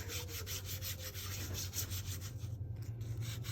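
A craft pouch rubbed back and forth over a sticky foam surface to take off the tackiness, a soft repeated scuffing stroke heard close and quiet over a faint low hum.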